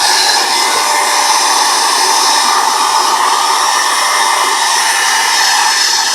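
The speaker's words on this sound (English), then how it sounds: "And just start my heating tool up." A craft heat tool blasts hot air with a loud, steady, hissing fan roar that holds constant throughout, close up and with no speech.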